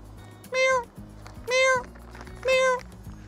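A cat meows three times at a house construction site, each cry short and clear with evenly spaced gaps, over low background hum and faint site noise.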